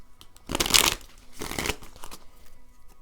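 Tarot cards are shuffled up close, two quick papery bursts of riffling a moment apart followed by a few light taps, quiet and without talk.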